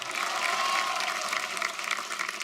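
A television game-show studio audience claps enthusiastically, a dense, continuous round of applause that holds steady throughout.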